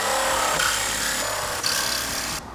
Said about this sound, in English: So what we're doing is going around, cutting the bolts